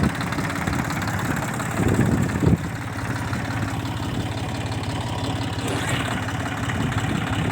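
Steady idle-like drone from a Dongfeng 244 tractor engine with a 1.5 m rotary tiller in a field, low rumble and vibration continuous throughout with a brief louder swell near the middle.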